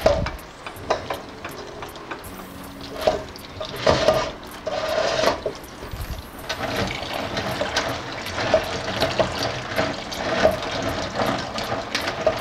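Crab rinsed under running water, a continuous splashing flow with repeated sharp knocks and clatters of shells being handled and turned nearby.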